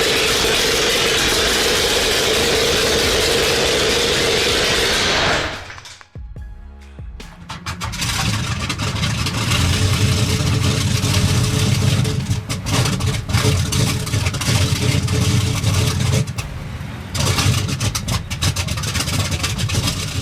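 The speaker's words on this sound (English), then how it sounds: "the Liberty V12 erupts with raw, commanding power" A Liberty V12 aircraft engine mounted in a Rolls-Royce, an old engine being started, gives a loud hissing burst, cuts out briefly, then settles into a steady, close rumbling run.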